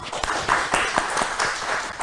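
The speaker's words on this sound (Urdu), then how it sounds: "تالیاں خواتین حضرات." Audience applause from a seated crowd at an Independence Day community talk event, a steady patter of many hands clapping for about two seconds, with a few sharper claps standing out.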